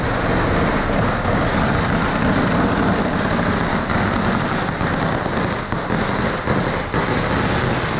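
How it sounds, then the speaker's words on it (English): Dense, continuous crackling and popping of Lunar New Year fireworks going off nonstop near a Kuala Lumpur night market, loud and steady, like a long barrage of firecrackers with no voices. "it was fireworks because Chinese New Year, Lunar New Year, was about to start at the time"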